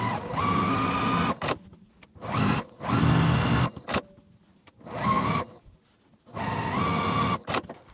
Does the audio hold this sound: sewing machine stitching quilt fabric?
yes